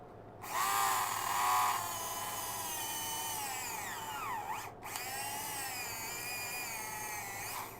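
A small Tamiya toy drill whirs steadily with a high, thin motor whine, briefly rising in pitch near the start, cutting out for a moment, then spinning on at an even speed, close and fairly loud.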